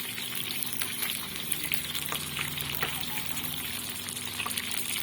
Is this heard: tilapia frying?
yes